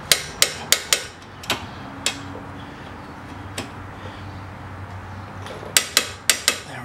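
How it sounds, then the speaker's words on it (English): A torque wrench clicks sharply as it tightens the front brake caliper bolts to 74 foot-pounds on a 2003 Chrysler Sebring Coupe. Crisp clicks come in quick bursts, with a pause in the middle, over quiet garage background. "So now we got our torque wrench. We wanna torque these bolts down to 74 foot-pounds."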